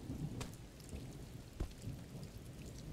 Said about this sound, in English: There's a storm coming in! I would have never known if I didn't hear the sounds.